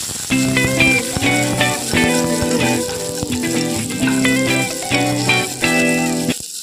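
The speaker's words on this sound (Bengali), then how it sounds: "এরপর আমি এর মধ্যে দিয়ে দিচ্ছি কুচিয়ে রাখা রসুনটা কিন্তু দিয়ে দেওয়ার পর ভালোভাবে ভেজে নিতে হবে।" Chopped garlic fries in melted butter in a wok, a continuous crackling sizzle with small rattling bursts, loud and close with no talking.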